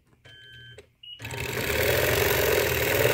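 A sewing machine starts up close by and runs in a steady rapid stitching drone while sewing a quilt's outer border, preceded by a few faint handling clicks.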